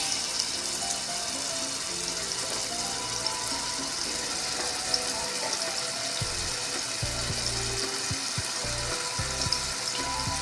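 Garlic-ginger paste frying steadily in a pan for kachori, a continuous close sizzle with occasional soft stirring clatter underneath.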